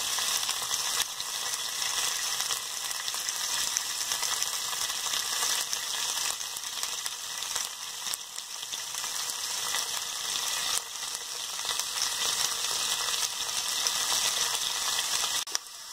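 Onions and curry leaves fry in ghee over medium heat, giving a loud, steady, close sizzle that continues evenly with occasional stirring crackles and no talking.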